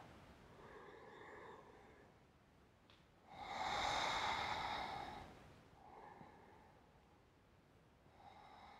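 Slow yoga breathing during a beginners' Hatha session: a soft, airy breath cycle with one louder, fuller exhale-like rush in the middle, quieter breaths before and after, close and alone with no talk.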